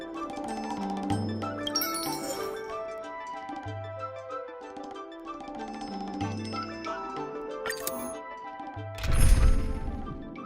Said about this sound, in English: When you're ready, ring the chime.